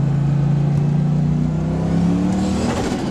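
A turbocharged car pulls hard in a second-gear roll, its engine note climbing steadily in pitch and loudness across the run, close and continuous, with no talking.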